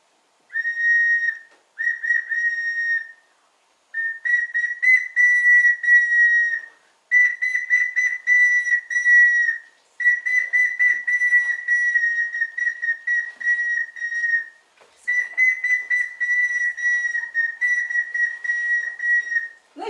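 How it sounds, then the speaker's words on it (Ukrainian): A clay whistle plays a tune in long, steady high-pitched notes separated by short pauses, clear and close with no voices. "От послухайте, як свищик звучить."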